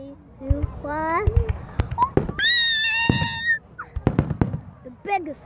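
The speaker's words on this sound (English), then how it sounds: "Fireworks are everywhere, and especially for Canada Day." Several crisp firework bangs and crackles during Canada Day celebrations, mixed with a child's high, sing-song voice and chatter.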